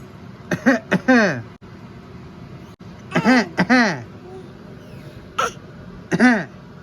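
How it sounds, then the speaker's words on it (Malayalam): A series of harsh coughs in several bursts, with short pauses between groups, close and fairly loud. "ഒരാൾ കൂടെ ചുമക്കുമ്പോ കൂടെ ചുമക്കും"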